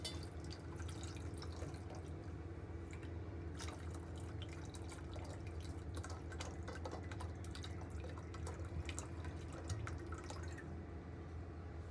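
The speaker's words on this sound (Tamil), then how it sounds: "அதுக்கு போதுமான அளவு தண்ணி ஊற்றிக்கலாம்." Water runs steadily into a cooking pot filled for boiling eggs, a continuous close pouring and trickling wash with no voices, holding at an even level throughout.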